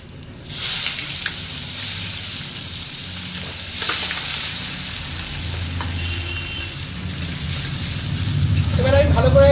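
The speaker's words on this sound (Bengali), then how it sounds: "এবার আমি ভালো করে পেঁয়াজটাকে একটু বাদামি করে ভেজে নেবো।" Chopped onions browning in hot oil with whole cumin and bay leaves, a loud continuous sizzle that swells toward the end, with occasional clinks of a spatula stirring.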